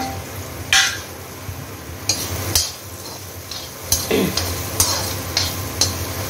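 Chopped onions go into hot oil already flavored with golden asafoetida in a pan, giving a steady sizzle broken by sharp clinks and scrapes of a spoon stirring against the metal, with no voices.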